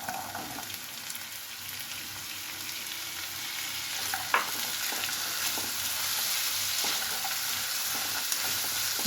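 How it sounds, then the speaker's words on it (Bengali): Potato pieces frying with browned onions in oil for ghugni, a continuous bright sizzle with repeated scraping and clinking as the pan is stirred, plus a few sharper knocks. "পেঁয়াজটা আমার মোটামুটি ভাজা হয়ে এসছে। এবার আমি এর মধ্যে আলুর টুকরোগুলোকে দিয়ে দেব।"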